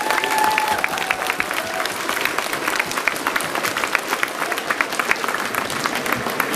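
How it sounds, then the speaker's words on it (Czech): Audience applause fills a dance event hall, a dense steady clapping from many hands that holds at an even level from start to finish, with no talk over it. "ještě jednou velký potlesk"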